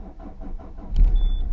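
A car engine cranks and catches after a moment of quiet handling noise, ending in a loud low rumble that settles into a steady idle with a thin high whine.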